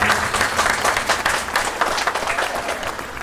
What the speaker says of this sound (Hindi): हम लोग ज़ोर से ताली मार के उनका स्वागत करें।